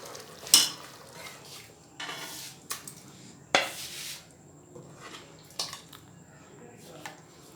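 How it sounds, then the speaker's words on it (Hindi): Ojri tripe curry is stirred in a cooking pot, with several distinct scraping and clinking spoon strokes against the pot amid a soft simmering sizzle, fairly quiet and close. "इसे अच्छे से मिक्स कर लेंगे, और इसे मज़ीद 20 मिनट तक पकाएंगे"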